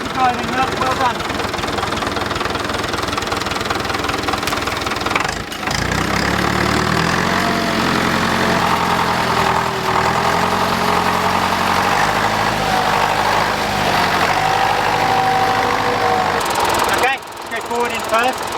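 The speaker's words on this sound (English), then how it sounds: "Excellent tractor driving, well done." A tractor engine runs steadily at close range while clearing trees on farmland, a low rumbling idle with some knocking, and people talk over it throughout.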